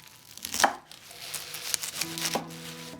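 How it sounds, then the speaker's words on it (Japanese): A knife slices boiled bamboo shoots on a cutting board, a few sharp close cuts with quiet pauses between them. "水煮のたけのこは4分の1に切り、薄切りにします。"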